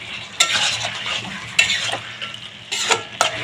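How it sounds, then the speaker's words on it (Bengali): Pumpkin and fried prawn curry stirred in a pan, a spatula scraping the bottom in several distinct strokes over a soft frying sizzle, close and alone. "মাঝে মধ্যে এখন নাড়িয়ে নিতে হবে, যাতে না তলায় ধরে যায়।"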